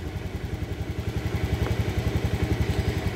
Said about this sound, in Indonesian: Ini posisi mesin menyala.